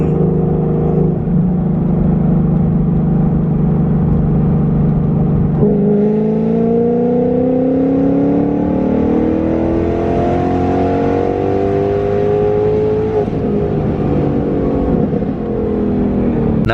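A tuned 500 WHP Ford Mustang GT on a flat open road, engine droning loud and constant, then pulling hard through third gear with pitch climbing steadily before easing off near the end.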